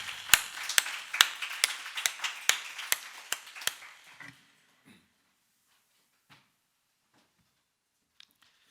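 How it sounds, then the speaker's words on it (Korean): A church congregation claps together in a steady, even rhythm during a Wednesday worship service, a dozen or so sharp beats that stop abruptly, leaving near silence. "주님께 박수로 드리겠습니다."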